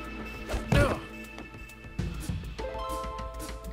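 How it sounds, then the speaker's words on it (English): In Minecraft Story Mode, stamping on mounds lands as two heavy, dull thumps, one near the start and one midway. Steady game music runs underneath. "let's stamp these mounds"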